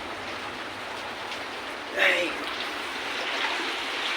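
Steady rain falls with running water, a constant soft hiss and trickle throughout, while a voice briefly exclaims under it.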